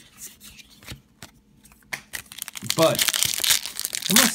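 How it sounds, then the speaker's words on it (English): Crinkly plastic wrapper of a Pokemon Guardians Rising booster pack being crumpled and torn open up close, growing louder toward the end, with someone speaking over it. "this crunchy sound open packs is somewhat satisfying every now and then"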